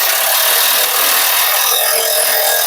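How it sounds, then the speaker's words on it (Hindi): A power tool, likely an impact-type machine, runs nonstop at close range while removing bolts from a Mahindra Xylo clutch assembly, giving a loud, harsh, steady grinding whir throughout. "हम मशीन मार के एक एक करके बोल्ट निकाल लेंगे हम इसको।"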